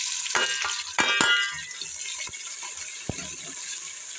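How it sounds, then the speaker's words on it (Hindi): Onions sizzle and crackle steadily in hot oil, with a few clanks of a utensil stirring the pan near the start. "अब हम प्याज भून लेंगे"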